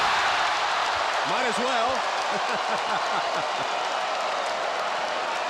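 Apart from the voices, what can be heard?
basketball arena crowd cheering during NBA game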